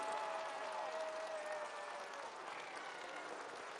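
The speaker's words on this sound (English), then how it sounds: "People are applauding." People applaud in the mission control room during the live telecast of the Chandrayaan-3 soft landing, a faint, continuous hiss of many hands clapping heard from a distance.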